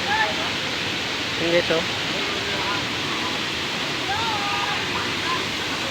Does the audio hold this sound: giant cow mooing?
no